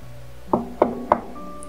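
Three distinct knocks on a door, evenly spaced about a third of a second apart, sharp and fairly close, with a faint background hum.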